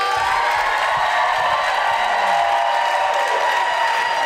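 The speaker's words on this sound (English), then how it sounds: "Give them a round of applause" An audience at a live talk event claps and cheers in a dense continuous roar, with a few whoops and a brief voice underneath, steady and loud throughout.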